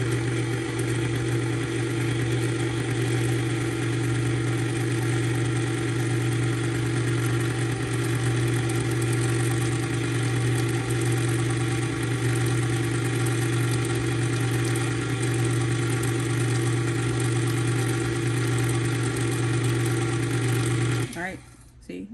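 An electric stand mixer with a paddle beats sour cream pound cake batter in a loud, steady mechanical whir that runs unbroken for over twenty seconds, then cuts off abruptly at the end.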